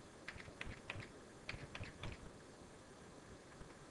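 Computer keyboard typing while values are entered into a business calculation program, a few quick clusters of light key clicks with short pauses, close and fairly quiet, no talk.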